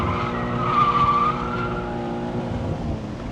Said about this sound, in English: I just wanna send a drift every now and again